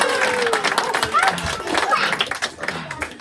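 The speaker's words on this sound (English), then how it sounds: "Give them a big clapping hand." A small group claps for children who have just finished plate spinning, a brief scattered round of hand claps with chatter and voices mixed in.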